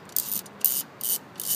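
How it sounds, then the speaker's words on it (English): Four quick bursts of ratchet clicking as 17 mm wiper bolts come off a 2003 Honda Accord, close and crisp with short gaps between strokes. "Then you undo these bolts. These are 17 millimeter."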